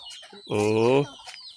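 Chickens, including small chicks, cluck near the microphone, with one loud, drawn-out cluck in the middle and softer calls around it.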